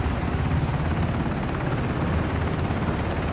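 Helicopter in the Ring of Elysium video game, a dense, steady rotor roar that fills the whole moment at constant loudness, close and unbroken with no voices over it.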